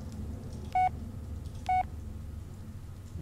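Two short electronic dialing beeps a second apart as a phone is dialed in the Blair Witch video game, set over a steady low background hum.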